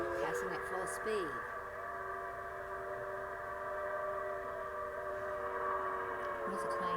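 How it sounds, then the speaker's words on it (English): A recording of a steam train passing at full speed plays faintly in a museum: a sustained multi-tone whistle blows over train rumble, with people talking nearby. "Steam train passing at full speed."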